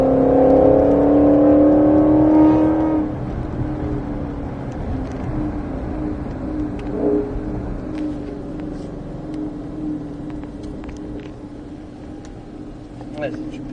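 A 2021 Ford Mustang GT500 on the Folembray race circuit, its engine droning loud and rising at first, then easing into a lower steady whir and rumble inside the cabin, with people talking over it.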